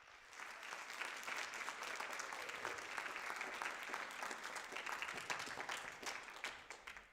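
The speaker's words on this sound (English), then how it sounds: "Let's give a round of applause to the people that volunteered their time for that." Steady audience applause for volunteers at a 74th annual holiday concert, a dense crowd clapping at an even level throughout, heard from some distance and fairly soft.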